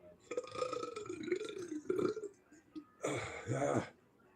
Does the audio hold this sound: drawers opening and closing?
no